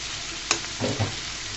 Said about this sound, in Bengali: সুন্দর করে শিম আলুগুলোকে আমি তেলের মধ্যে 5 মিনিট মতো ভেজে নিব